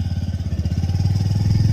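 A motorbike engine chugs close by with a rapid, even pulsing beat, running steadily and growing slightly louder over a couple of seconds.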